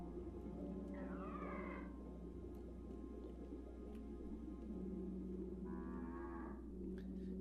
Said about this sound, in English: we can run into the sea cows again